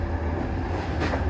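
An express train on a diverted route near the Czech–Slovak border rolls onto the line toward Ostrava, giving a close, loud rumble of wheels and carriages with a brief brighter rattle near the end.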